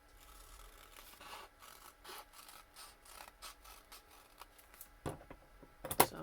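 Music paper is trimmed while making coin envelopes, giving a close, quiet series of rasping, rubbing strokes followed by a couple of sharper cutting snaps near the end.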